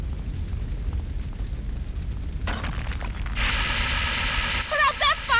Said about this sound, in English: the building's starting to collapse